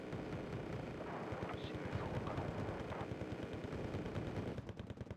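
Dense, continuous battlefield gunfire in the real-time strategy game Wargame: Red Dragon, with rapid repeated thumps and cracks layered under a steady rumble, a mix in which mortar fire from a newly fielded mortar team is likely present.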